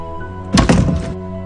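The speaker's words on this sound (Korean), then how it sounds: "놀래는 소리와 함께 문이 쾅 하고 닫힌 소리가 울려 퍼졌다." A door slams shut as a radio drama sound effect: one heavy thump with a short crashing rattle, loud and close, alone over a low background hum.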